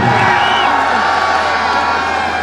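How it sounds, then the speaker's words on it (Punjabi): Spectators at a Shakarpur versus Jaggu Hakamwala kabaddi match roar and cheer in a dense, steady crowd wash, with whoops and scattered clapping blended into the noise throughout. "ਇੱਕ ਵਾਰੀ ਤਾੜੀਆਂ ਮਾਰ ਦਿਓ ਦਰਸ਼ਕ ਵੀਰੋ"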